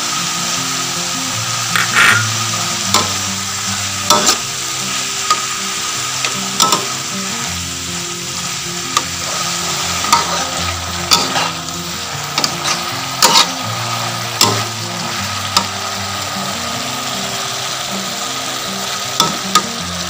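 Cabbage being stir-fried in a pan with sugar and oyster sauce, steady sizzling and frying hiss running throughout, with repeated sharp clanks of a spatula scraping and tossing against the pan, close and fairly loud.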